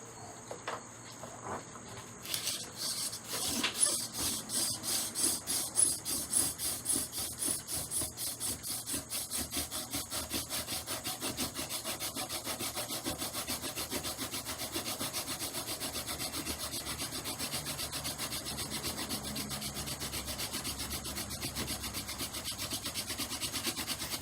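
Friction fire drill spun against a wooden board to build up an ember: rapid, rhythmic squeaky rubbing strokes repeating steadily and close for the whole stretch, with no talking.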